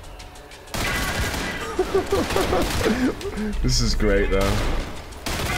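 Hectic gunfire from the video game Trepang 2, a steady wash of shots running almost throughout, with someone talking over it.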